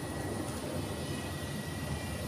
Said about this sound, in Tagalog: dito palagi ang daan ng eroplano. Ingay palagi. Kasi malapit kami sa ano, airport.